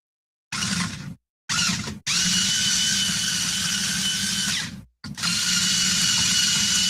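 Power driver whirring in short bursts and then longer runs while it backs screws out of a guitar pickguard on a FireFly Buck Owens guitar, close and loud with brief pauses between bursts.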